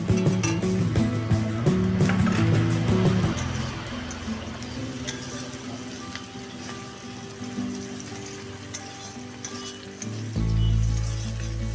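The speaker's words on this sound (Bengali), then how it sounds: "পেঁয়াজটা ভালো করে ভাজতে হবে যতক্ষণ না পর্যন্ত সোনালি রং হয়" Onions, then tomatoes, fry in a pan for a Bengali-style chicken kosha, a loud continuous sizzle with stirring and pan scrapes that swells again near the end as more ingredients hit the oil.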